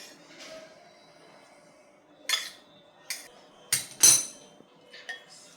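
A metal spoon knocks and clinks against a bowl while cooled vegetables are mixed into rava appe batter, five or six sharp separate strikes spaced over a few seconds, with soft scraping between and a quiet room.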